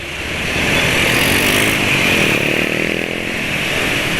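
A Yamaha NMAX scooter engine runs in a steady, loud, buzzy drone that holds even with slight swells in level and has no speech over it.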